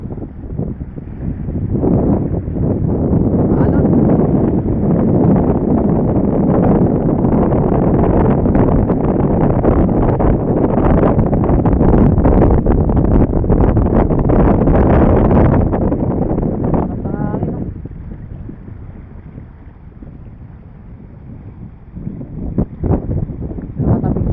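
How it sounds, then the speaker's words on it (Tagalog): Strong wind on Burias Island, Masbate roars and buffets against the microphone in heavy continuous gusts, easing somewhat near the end before picking up again. "Grabe, lakas ng hangin mga amigo."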